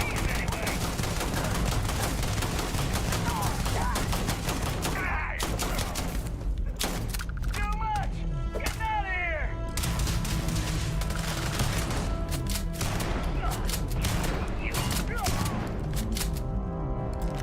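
Shotgun blasts in a Starfield firefight: repeated sharp, punchy gunshots in irregular bursts over a dense, continuous layer of combat noise, with a few whooshing and tonal game effects mixed in.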